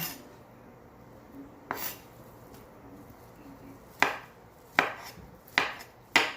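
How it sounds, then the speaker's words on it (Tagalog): A knife chops through boiled, cooled honeycomb beef tripe for a salad: one lone chop, then four sharp, close cuts at a steady, unhurried pace, with quiet gaps between and no talking. "So, medyo malamig na siya at madali na siyang hiwain."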